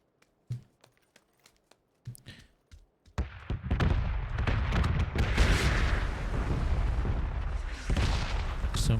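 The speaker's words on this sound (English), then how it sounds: "I feel like that's more concentrated explosions than usual." Explosions in a shooter video game: a few sharp isolated booms and gunshots, then a dense, sustained barrage of loud blasts rumbling continuously to the end.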